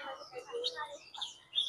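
Caged mynas at an outdoor ornamental bird market give short, bright chirps and whistles that overlap one another. The calls are fairly faint and close together over a quiet background.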